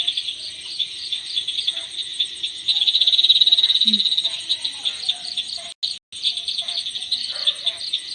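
Frogs croak in a dense pulsing chorus alongside shrill insects in a rubber plantation, a loud continuous night ambience with a brief swell partway through.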